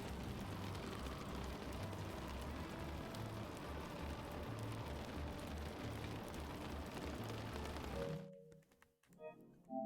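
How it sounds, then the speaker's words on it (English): Rain falling in The Stanley Parable video game, a loud continuous patter and hiss lasting about eight seconds before cutting off abruptly into near silence with a few faint tones. "Why is it always raining?"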